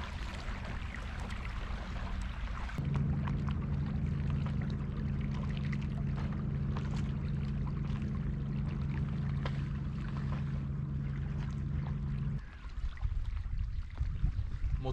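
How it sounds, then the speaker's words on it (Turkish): An inflatable boat's outboard motor idles along at low trolling speed close to shore, a steady low drone holding from about the third second until near the end, with water and wind noise around it. "Motorun hızını düşürdüm. Şu an yavaş yavaş kıyının etrafında, kıyıya yakın trolling yapıyorum."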